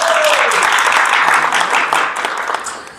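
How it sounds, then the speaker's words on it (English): An audience applauding at a cup kit launch event, a dense burst of clapping from a crowd that holds steady and then gradually tapers off. "Now, another round of applause for her, please."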